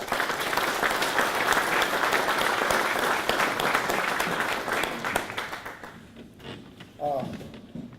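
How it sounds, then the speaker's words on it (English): Banquet guests at a military best-warrior event give a sustained round of applause, loud and dense from a large crowd in a hall, thinning out near the end as a few scattered claps and a voice trail off. "I'll give them a round of applause."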